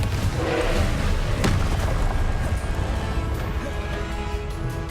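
A Confringo blasting spell in the video game Hogwarts Legacy sets off a deep, booming explosion with a sharp crack partway through, followed by a rumbling low-end tail.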